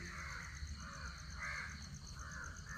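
Several crows caw in a repeating pattern on a cool, breezy morning, faint and distant over a low, constant background hum.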